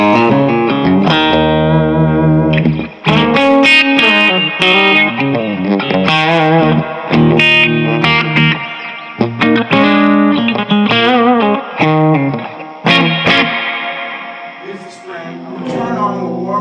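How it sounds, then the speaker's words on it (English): Distorted electric guitar on the bridge pickup through a LonghornAmps El Capitan amp with spring reverb, playing chords and single-note lines, loud and continuous, with no talking. "Here's the bridge pickup on this guitar."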